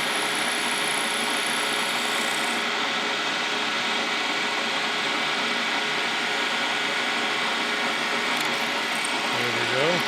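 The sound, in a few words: drilling through a Case steam engine governor spool valve stem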